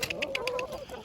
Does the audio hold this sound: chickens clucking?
yes